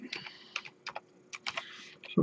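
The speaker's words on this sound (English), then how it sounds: "Let's just grab my keyboard." Quick, uneven clatter of a computer keyboard being typed on, close and moderately quiet, with a brief low thump at the end.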